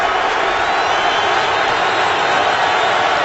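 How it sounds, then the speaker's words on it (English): Football stadium crowd at a Browns home game against the Ravens, a dense continuous roar of cheering voices holding steady and loud throughout, with no single voice standing out. "This crowd is getting excited with the play of the Browns."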